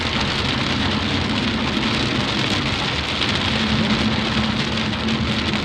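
Heavy, steady rain pours continuously, a dense wash of drops drumming on surfaces with no pauses and no voices.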